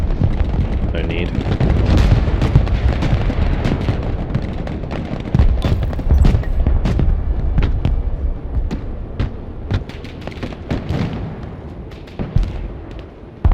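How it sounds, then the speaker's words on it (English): A flash launcher fires in the modern military strategy game Broken Arrow, with a rapid barrage of sharp bursts and booms packed closely together, loud and continuous throughout alongside other battlefield noise. "That's using a flash launcher"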